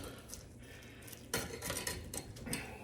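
Serving utensil digging a large corner scoop out of a baking dish, with scraping and clinking against the dish in short bursts, close and fairly soft.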